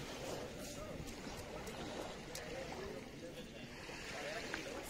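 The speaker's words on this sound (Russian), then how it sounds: "Вот у нас ручей свой собственный есть." A small mineral stream trickles and gurgles steadily near the Dead Sea shore, a continuous close watery wash with faint voices in the background.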